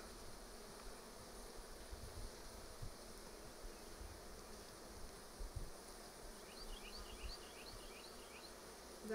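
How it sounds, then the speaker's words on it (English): Honey bees buzzing as they are shaken off a comb during a hive transfer, a faint, steady insect drone with a low rumble beneath and no voices. "Just shake off the bees."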